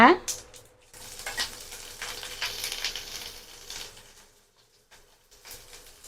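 Green chillies hit hot oil with popped mustard seeds and urad dal, giving a sharp hiss, then crackle and spit in uneven bursts that gradually quiet down.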